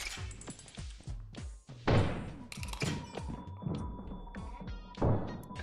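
Gunfire from a Nutcracker enemy in the video game Lethal Company: a run of loud, sharp booming shots and heavy thuds in an irregular rhythm, mixed with footsteps, clanks and a faint steady tone.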